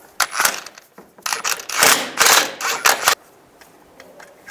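A 15mm socket wrench ratchets an engine mount bolt loose on a 2010-2017 Chevrolet Equinox, giving close, loud bursts of rapid mechanical clicking that stop and start, then fall quiet.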